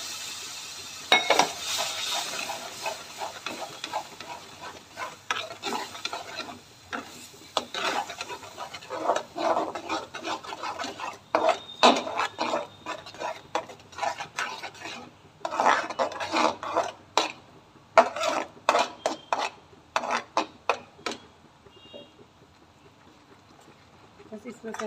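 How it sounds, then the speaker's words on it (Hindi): Tomatoes being ground into puree for a jackfruit curry, heard as repeated raspy grinding and scraping bursts in an irregular rhythm, fairly close, with a voice speaking now and then. "ये टमाटर की पीस लेंगे"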